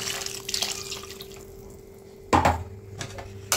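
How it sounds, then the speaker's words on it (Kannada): Water goes into a pan of ground palak paste with ginger, garlic and green chilli, a quiet trickle and drip that ends in one brief, sharper splash near the end. "ನೀರು ಹಾಕೊಂಡು ಮಿಕ್ಸ್ ಮಾಡ್ಕೊಳ್ಳೋಣ."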